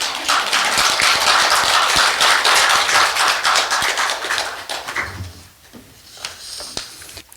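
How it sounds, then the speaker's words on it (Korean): Dense applause from a crowd, steady and loud for several seconds, then thinning out into scattered claps and room noise. "박수로 모시겠습니다"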